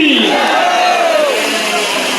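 A large crowd shouts the Hindi chant "Bharat Mata Ki" in unison at a welcome for Lok Sabha Speaker Om Birla, loud and close, voices rising and falling together in one sustained roar.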